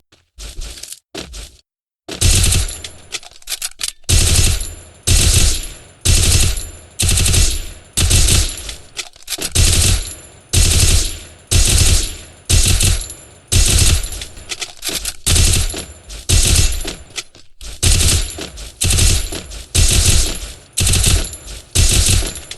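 Rapid automatic gunfire from a mobile shooter game run on BlueStacks, heard as dense, loud bursts of shots that repeat in a steady rhythm with brief gaps between them.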